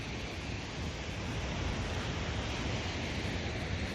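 Ocean surf breaks on the volcanic coast of the Azores as a constant, even wash of noise mixed with wind, with no voices.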